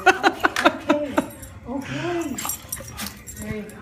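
A dog whimpers and yips in short, close bursts amid people talking and laughing, with a faint jangle of keys.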